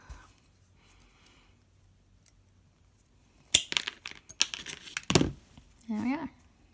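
Metal stock for jewelry smithing has its rough end cut off, giving a few sharp close snips and clacks followed by brief handling noise, with quiet room tone before.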